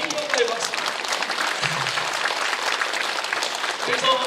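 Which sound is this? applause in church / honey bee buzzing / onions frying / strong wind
applause in church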